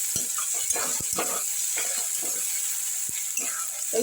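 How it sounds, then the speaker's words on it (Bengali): Cumin seeds and spices fry in a pan with a steady bright sizzle, while a utensil scrapes and taps against the pan in irregular stirring strokes close by. "এবার আমি জিরেটা দিয়ে দিলাম, জিরে দিয়ে নাড়াচাড়া করে"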